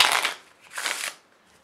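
Two quick riffle shuffles of an Ellusionist Infinity deck of playing cards, each a short crisp burst of fluttering card snaps, close and clear, with no talking.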